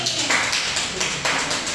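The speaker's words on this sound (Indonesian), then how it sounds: "tepuk tangan untuk Reskiani" A classroom claps for a student after her English reading, with steady, dense applause that runs close and loud for the whole stretch.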